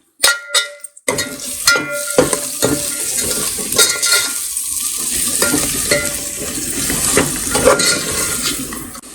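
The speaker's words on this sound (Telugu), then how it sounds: "కొద్దిగా బిర్యానీ మసాలా, గరం మసాలా వేసుకొని దీన్ని ఒకసారి చక్కగా కలుపుకోండి." Biryani masala and garam masala being stirred in a pan for a farm chicken biryani, with steady scraping and clinking of a spoon against the pan over a continuous frying sizzle, close and fairly loud throughout.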